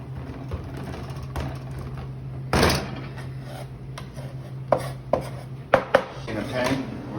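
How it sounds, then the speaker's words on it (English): A big knife cracks up a block of chocolate for a flourless chocolate mousse cake, giving several sharp, close chopping thuds, one heavy crunch early and a quick run of blows near the end over a steady hum. "So I use a big knife to crack it up."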